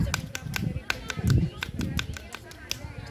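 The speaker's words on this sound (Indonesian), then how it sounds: "Tepuk pramuka." A scout group performs the tepuk pramuka, a rhythmic clap with sharp, evenly patterned hand claps from several people repeating through the whole stretch.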